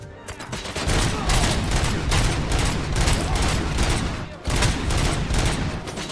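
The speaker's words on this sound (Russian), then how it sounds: "Охереть, тут перестрелочка." A gunfight rages in RoboCop: Rogue City, with dense continuous automatic gunfire and overlapping shots close and loud, broken by a brief pause before resuming.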